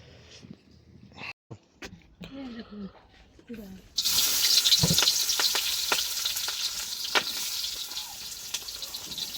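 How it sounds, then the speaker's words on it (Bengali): Food sizzles loudly in a pan and is stirred while duck meat is cooked at home, with a steady hiss starting partway through after quieter sounds and brief talk. "রান্না আলহামদুলিল্লাহ শুরু হয়েছে"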